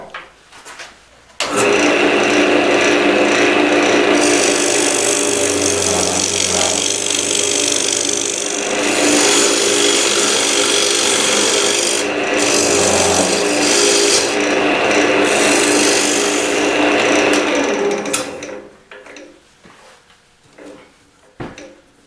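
A maple bowl turning on a wood lathe while a tool takes a flat cut across its bottom, giving a loud, steady rasping scrape. It runs for about fifteen seconds with slight pulsing and then dies away, with no talk over it.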